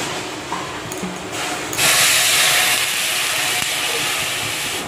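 Jackfruit seeds boil in a pot in a hill village kitchen, giving a steady steamy hiss that grows louder and fuller partway through and then holds, with faint background sounds.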